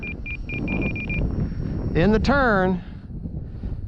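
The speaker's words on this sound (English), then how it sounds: "Like I said, it's windy." Steady wind noise buffets the microphone throughout, with a brief engine-like tonal sweep and a few high beeps over the rushing air.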